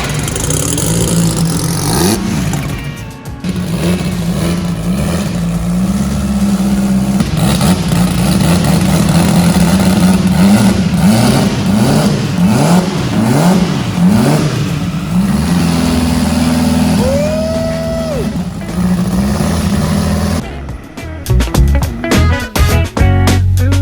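A twin-engine, four-rotor Volvo known as the Trollvo revs loud and close: a steady rumbling idle climbs through repeated throttle blips and sustained revs, then breaks into sharp popping bursts near the end.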